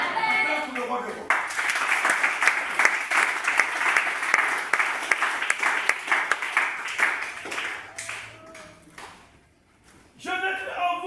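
A church congregation claps and applauds steadily for several seconds, loud and dense, fading out near the end before voices return.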